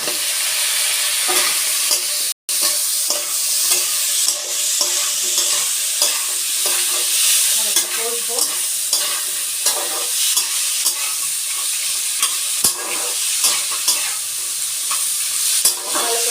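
Crab pieces stirred and fried in a pan for a crab and potato curry, a steady close sizzle with continuous scraping of the spoon through the pan, and no talking.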